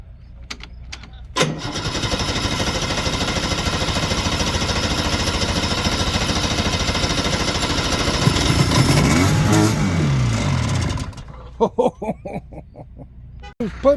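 A 1973 Ski-Doo 399 twin snowmobile engine catches after a few pulls and runs loud and close for about ten seconds with a steady, rough two-stroke rattle and a brief rev, then cuts out, leaving scattered knocks.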